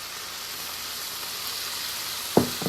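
Field mushrooms sizzle steadily as they fry in a pan, and a splash of sherry vinegar lands near the end, adding a brief sharper hiss and a couple of small knocks over the constant close crackle.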